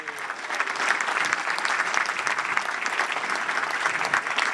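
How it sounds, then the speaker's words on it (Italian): A standing audience at a presentation evening gives sustained applause, a dense, even wash of many clapping hands at steady loudness with no pauses. "facciamo loro un bel applauso"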